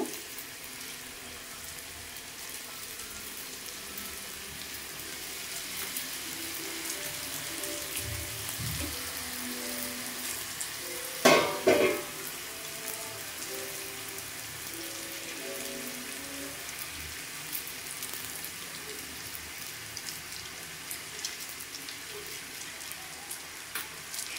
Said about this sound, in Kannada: ಈಗ ಎಣ್ಣೆ ಬಿಸಿಯಾಗಿದೆ, ಹಾಕಿದ್ದೀನಿ ನೋಡಿ